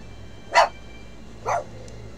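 Two sharp, single dog barks about a second apart ring out clearly over a quiet low hum, moderately close.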